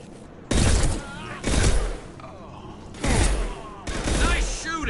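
Gunfire in Mass Effect 2 Legendary Edition comes in several loud bursts of rapid shots separated by brief pauses, with game character voices speaking over the action.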